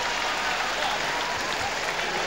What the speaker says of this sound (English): the crowd, well, they just do not know who to applaud